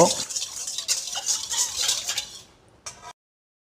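A whisk stirs instant dry yeast into liquid in a bowl, making light, quick metallic swishes and clinks up close for about two and a half seconds, then one short final swirl before silence.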